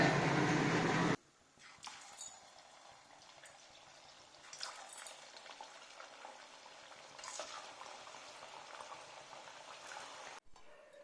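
Athirasam, a sweet, frying in hot oil: a steady, close bubbling sizzle that runs throughout, starting after a brief loud burst and continuing evenly with small crackles.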